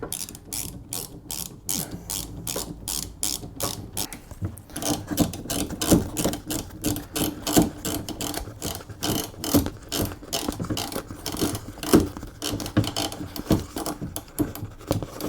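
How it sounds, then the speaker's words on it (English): Rapid, continuous ratcheting clicks as screws are driven into the driver's door lock of a Ford Focus MK1, loud and close, with fast regular ticks throughout. "Now I can do the screws up on the other side."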